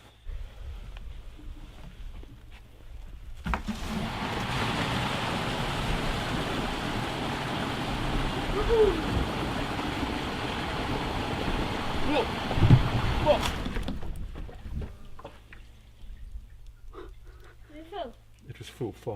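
Water rushes and gurgles out of an RV's black water tank as it empties, a steady, loud draining roar lasting around ten seconds before it cuts off, with quieter sounds either side.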